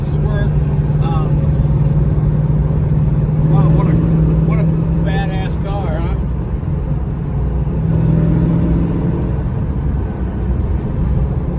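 A throaty 1972 Plymouth Road Runner GTX replica engine rumbles and revs continuously up close, rising and falling in pitch as it pulls hard.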